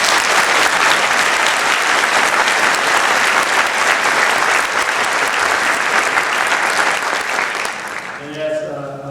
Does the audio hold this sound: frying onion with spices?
no